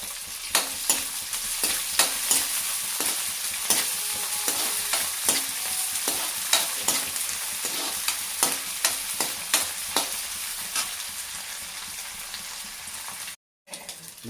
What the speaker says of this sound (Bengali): এটাকে একটু ভেজে নেবো এখানে রসুন পেঁয়াজের সঙ্গে।